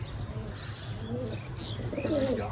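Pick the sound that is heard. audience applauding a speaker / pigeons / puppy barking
pigeons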